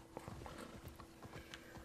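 Horse hooves clip-clop in the video game Immortals Fenyx Rising, a quiet, fairly quick and steady run of hoofbeats over soft ambient background.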